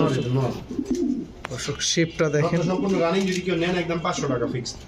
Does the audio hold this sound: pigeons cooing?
yes